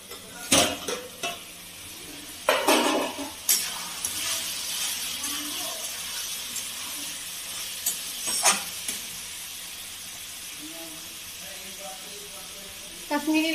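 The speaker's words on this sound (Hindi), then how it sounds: "इधर अब इसको बीच बीच में चलाते हुए फ्राई कीजिए।" Mushroom and potato curry stir-fried in a pan, a continuous close sizzle broken by several loud spatula scrapes and knocks against the pan, with a voice speaking at times over the frying.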